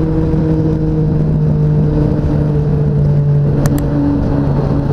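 A 636 motorcycle engine runs close by with a loud, steady idle drone and a constant low hum, with no clear rise in revs and no voices.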